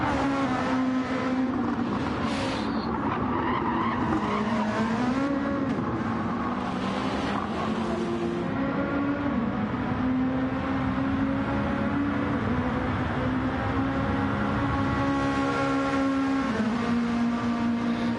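Race car engine from a sim racing game lap at Road Atlanta, a loud continuous drone whose pitch rises and falls with throttle and gear changes, steady and close throughout with no talking.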